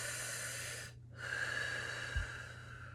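Slow, deep breathing during a fascia release exercise for the torso, an airy sustained inhale broken by a brief pause, then a longer steady exhale, close and alone with a soft low thump near the end.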